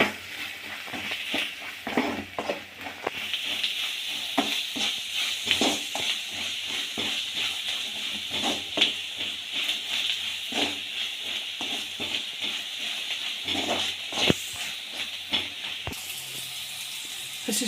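Oil hissing and sizzling steadily in a pan while ingredients for palak rice are fried with salt, broken by repeated scraping knocks of stirring, fairly close and with no talk.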